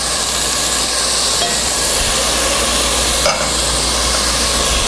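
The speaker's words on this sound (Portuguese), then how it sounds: "Azeite na panela, cebola ralada" Grated onion sautés in olive oil in a pan with a loud, dense, continuous sizzle and hiss that stays level throughout, with a faint clatter near the end.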